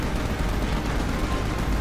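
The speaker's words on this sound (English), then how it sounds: "Using the machine gun to take down you." Sustained rapid machine gun fire from Prompto's mounted weapon in Final Fantasy XV, a loud, dense, unbroken rattle of overlapping shots filling the whole stretch.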